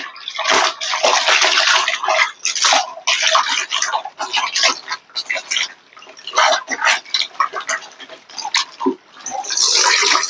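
Water sloshes and splashes in bursts as a saree is swished and squeezed in a tub of water, close and loud, with repeated wet churning and dripping.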